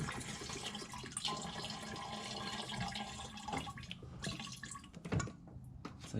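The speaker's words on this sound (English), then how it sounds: "Drip, drip, drip." Liquid drips and trickles in a dense, uneven stream, close and moderately loud, with a few sharper splashes near the end and no talking.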